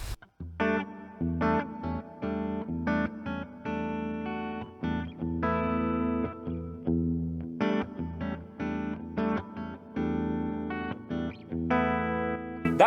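Electric guitar through an HX Stomp playing a series of plucked notes and chords, each ringing out into a smooth, spacious plate reverb tail.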